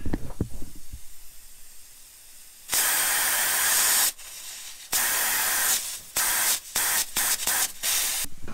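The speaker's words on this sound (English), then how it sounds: "I could hear an air leak." A broken-down truck leaks air in loud bursts of steady hiss, some several seconds long and others short and choppy, separated by brief quiet gaps.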